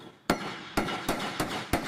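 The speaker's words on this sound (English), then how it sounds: "That sound is beautiful. It means the bolt broke free instead of snapping off inside the frame." Hammer blows shocking a salt-corroded, frozen bolt loose on a 1964 F-8 Crusader fighter airframe: five sharp, close metallic strikes at irregular intervals, each ringing briefly before the next.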